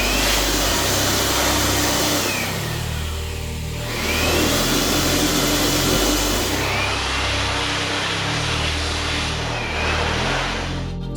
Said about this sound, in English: So overall, the blower did a pretty decent job, but it did not clean the nooks and crannies of the cabinet.